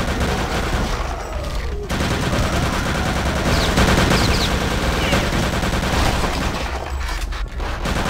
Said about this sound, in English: Let me throw some grenades at him.